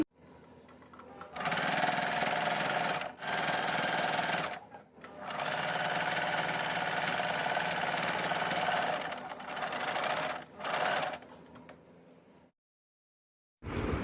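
A sewing machine stitches along the edge of a fabric envelope pillow cover in long, steady motor runs broken by short pauses, loud and close, ending in silence.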